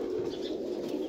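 Pigeons hand-picked from a flock coo in a low, continuous murmur nearby, with faint wing rustling mixed in and no talking.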